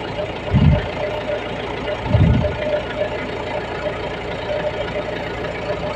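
A Mahindra Bolero BS6 pickup diesel engine idles with a steady, even mechanical drone, with two brief low thumps early on over the constant hum.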